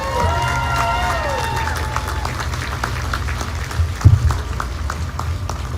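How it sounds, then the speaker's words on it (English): A crowd applauds at the commissioning ceremony of the navy ship USS Mobile, steady clapping spread across an outdoor gathering, with voices and a brief thump partway through. "One more round of applause for this great crew and this great ship."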